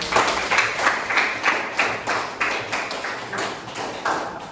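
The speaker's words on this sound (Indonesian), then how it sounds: "Berikan tepuk tangan untuk kelompok 2" Scattered applause from a small classroom group of students, uneven claps with a rhythmic surge every half second or so, close and moderately loud, no talking.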